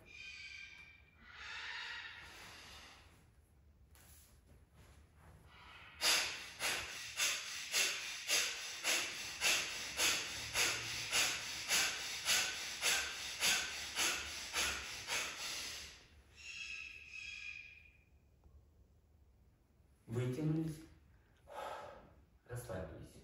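Rhythmic, forceful breathing during a yoga exercise: a few long breaths, then a fast run of about twenty sharp nasal exhalations, followed by slower breaths and gasps, close and loud.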